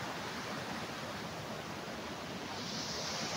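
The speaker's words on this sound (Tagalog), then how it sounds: "Tapos mayroon tayong makikitang maliit na falls, mga kapraps." A small waterfall on a river running through a farm lot in Liliw, Laguna pours in a steady, dense rush of white noise, constant and fairly close with no pauses.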